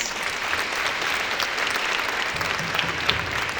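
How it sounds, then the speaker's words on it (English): A conference audience gives a speaker a round of applause: steady, even clapping from a large crowd, sustained at constant volume for the whole span with no talking on top. "Let's give our last speaker another round of applause."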